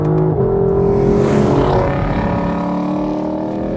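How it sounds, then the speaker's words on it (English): A 2018 Lexus LC 500's V8 engine roars at wide open throttle, a loud, continuous rising tone with layered harmonics that climbs steadily toward redline, heard up close and alone. "The V8 at wide open throttle sounds menacing, and power builds all the way to redline."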